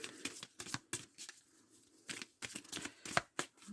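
Tarot cards being shuffled for a Scorpio reading, with crisp, close riffling bursts in an irregular rhythm and short pauses between, no talking.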